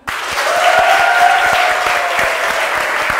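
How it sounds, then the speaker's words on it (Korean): A group claps steadily and loudly to welcome a guest, an actor joining a BNK Sum women's basketball team training session. The applause is sustained and dense throughout, with a voice briefly audible over it. "우리 박수로 맞이해 주자."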